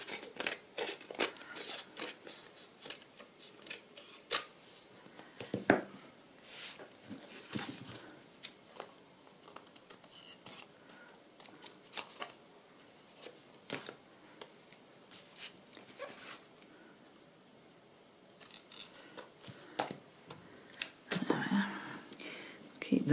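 Scissors snip through a paper photograph, trimming a piece off along the fold for a vintage travel photo frame craft; close, intermittent crisp cuts come in short bursts with quiet pauses between them.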